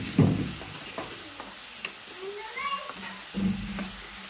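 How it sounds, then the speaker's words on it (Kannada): Chili powder frying in hot oil in a home kitchen pan, a steady soft sizzle with occasional stirring scrapes and clinks, close by, while a voice talks in the background at times. "ಈ ಖಾರ ಎಣ್ಣೆ ಒಳಗೆ ಫ್ರೈ ಆಗುತ್ತೆ"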